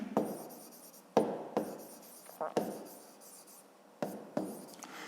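A pen writes on paper in close, soft scratchy strokes that start and stop in irregular bursts, quiet and without talk.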